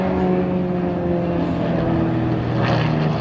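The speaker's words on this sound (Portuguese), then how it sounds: "É muito, uma aeronave muito rápida" A fast Halcones aerobatic squadron aircraft passes over an air show at the Brazilian Air Force Academy, with a loud, steady propeller-engine drone that swells slightly and holds throughout.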